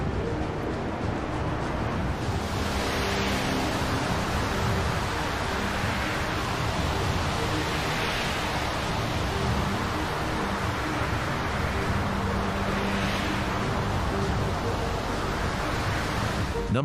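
Storm waves at sea pound against ships in a steady, dense roar of surf and wind that never lets up, with broad swells of crashing foam rising every few seconds and no voices.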